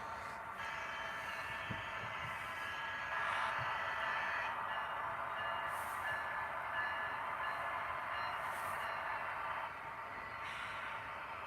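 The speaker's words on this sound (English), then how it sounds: "stack train's about ready to come around the corner here" A distant BNSF freight stack train rumbles steadily as it approaches, a faint low drone with a thin metallic whine over it, holding on without a break.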